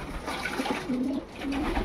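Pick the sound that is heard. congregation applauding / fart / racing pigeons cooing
racing pigeons cooing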